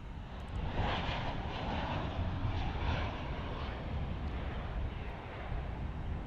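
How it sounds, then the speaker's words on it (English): A Boeing 787 Dreamliner taxiing at DFW airport produces a steady, moderately distant jet engine roar and whine that holds evenly throughout. "we got the Dreamliner speeding over to maintenance"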